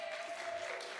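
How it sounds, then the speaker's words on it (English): An audience claps for a woman who has just shared her faith testimony: a brief, dense wash of clapping from a room of people, with a faint tone lingering underneath. "So let's give her one last clap."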